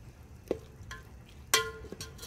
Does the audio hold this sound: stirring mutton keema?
yes